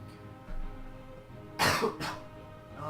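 A single sharp cough followed by a second, softer cough from a person a little away from the microphone, with quiet room tone around it.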